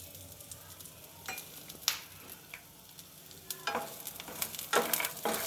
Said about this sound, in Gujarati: હવે થોડીક વાર માટે આ બધી જ વસ્તુને તેલમાં આ રીતે સાતળી લઈશું